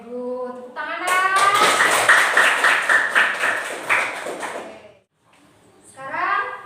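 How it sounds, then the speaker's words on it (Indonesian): A class of pupils claps together in a classroom: a few seconds of dense, lively clapping that breaks off abruptly, with a teacher's voice speaking just before and again after. "Tepuk tangan, Nak."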